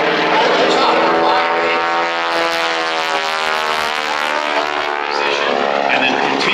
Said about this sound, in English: the tips of the propeller blades as they are breaking the speed of sound